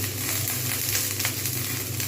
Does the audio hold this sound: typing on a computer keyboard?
no